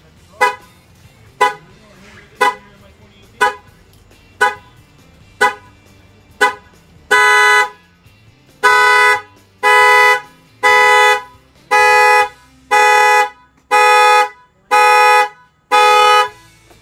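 A Chevy Silverado car alarm, set off by a shock sensor, blares in a regular pulsing pattern: short sharp chirps at first, then longer, louder horn blasts repeating about once a second; no talking.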